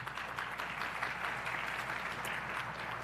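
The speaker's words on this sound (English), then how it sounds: "Save your applause for the graduates, please." Audience applause fills a graduation convocation hall at a law center, a steady, dense wash of many hands clapping at once, sustained and even throughout with no voices breaking through.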